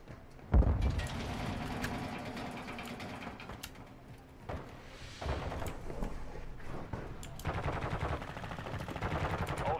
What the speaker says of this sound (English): I'm hearing some shots being fired southwest